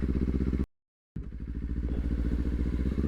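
A motorcycle engine throbs up close with low pulsing exhaust, drops out abruptly for half a second, then returns and climbs steadily during a downshift, with no talk.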